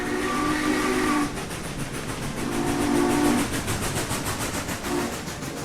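Train in the RimWorld video game, hauling a coal-mining box cart: a steady rumbling rail run with rhythmic clacking and a steam whistle sounding over it, loud and continuous.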